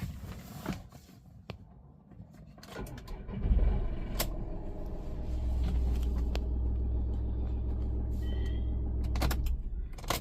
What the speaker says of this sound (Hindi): अभी गाड़ी को स्टार्ट करते हैं पहले।